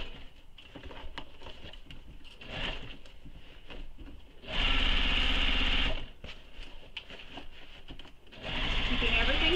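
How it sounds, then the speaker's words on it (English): A sewing machine stitches the gusset of a nylon bag, running in two steady bursts of about a second and a half each, with talking in between. "normally I don't sew with the gusset against the bed of my machine, but this time I am"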